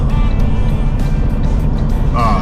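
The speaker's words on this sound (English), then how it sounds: "I think I hear his engine revving, which means he ran out of air pressure." A truck engine revving after running out of air pressure, a loud, steady low rumble that stays close and continuous, with brief fainter sounds over it near the end.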